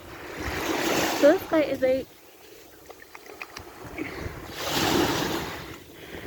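Ocean waves wash in at the water's edge of a beach, a broad surf rush swelling near the start and again toward the end, with someone talking briefly over the first surge.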